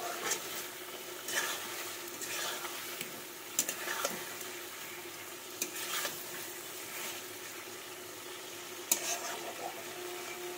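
Potatoes for aloo dum fry in oil with a steady, soft sizzle, broken by a few light clinks and scrapes of stirring.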